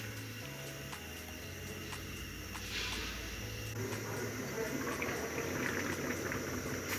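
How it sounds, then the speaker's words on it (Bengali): Eggs boil in a pot of water on the stove, a low rumbling bubble that grows fuller and busier partway through, with a faint background hum and no talking. "দিয়ে দিলাম সবগুলা ডিম সিদ্ধতে হইতে থাকুক"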